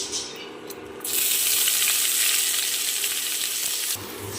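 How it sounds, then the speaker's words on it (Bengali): Chopped onions hit hot oil already seasoned with dry red chilli and bay leaf, bursting into a loud, dense sizzle after a quiet first second, then easing off near the end. "দিয়ে দিচ্ছি দুটো বড় সাইজের পেঁয়াজ কুচোনো"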